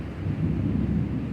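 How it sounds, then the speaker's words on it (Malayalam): Steady heavy rain pours down during a storm, a dense continuous roar of rainfall with water already starting to collect, loud and unbroken throughout with no voices. "കണ്ടോ മഴയുടെ സൗണ്ടാണ്"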